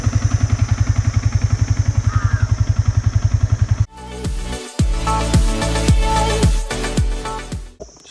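A motorcycle idles in a forest with a steady, close, pulsing putter for about four seconds, then the sound cuts to a noisier stretch of clattering and mixed sounds.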